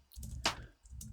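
Self-made clap sample serving as a second snare layer, heard as a single sharp noisy burst over a low thumping beat loop, with fainter hits on either side.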